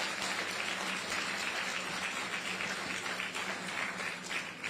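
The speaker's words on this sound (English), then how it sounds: "Give them a round of applause from the Smithereens." A crowd at a ferry terminal groundbreaking ceremony gives a sustained round of applause, dense and even clapping that continues without a break.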